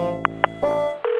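A phone being dialed: a few short keypad beeps followed by steady electronic tones, close and clear with no voices.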